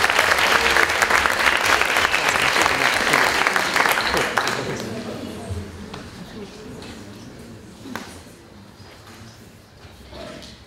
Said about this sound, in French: applaudir Baptiste, s'il vous plaît.